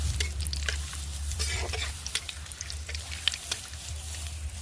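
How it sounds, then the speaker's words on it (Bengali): Whole garam masala, bay leaves and dried red chillies are tempered in hot oil for a country chicken curry, giving a close crackling sizzle broken by quick stirring scrapes and small spits. "গোটা গরম মশলা, তেজপাতা দিয়ে দিলাম।"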